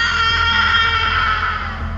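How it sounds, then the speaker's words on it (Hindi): A long, loud, sustained scream from a Hindi ghost story audio drama set in a graveyard, a shrill continuous cry held at full strength for about two seconds. "उसकी एक जोरदार चीख निकलती है।"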